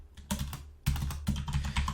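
Quick clattering keystrokes on a computer keyboard, close and crisp, coming in short irregular bursts with brief gaps, alone without any voice.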